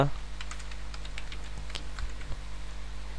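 Typing on a computer keyboard: a run of close, sharp key clicks in an uneven rhythm, moderately loud over a steady low hum.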